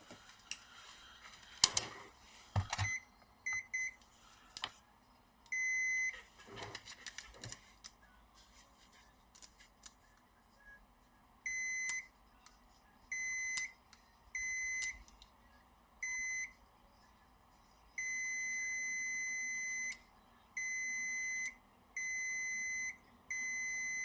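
Repeated electronic beeps from a multimeter probing the four display-connector fuses on a Lenovo X1 Carbon 5th Gen laptop board; short scattered bleeps at first, then a steady run of longer, evenly spaced tones, close and clear over quiet clicks.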